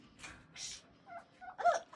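Turkeys gobble in short, rapid bursts, a few separate calls close by, with quiet background between them.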